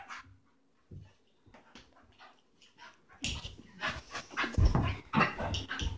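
A dog pants and whimpers close by, with soft whines and breathy huffs at first, then louder, busier panting and yelps toward the end.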